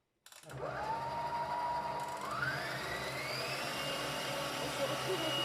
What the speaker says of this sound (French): Et puis nous allons mettre le robot en marche. Nous allons pétrir tout ceci.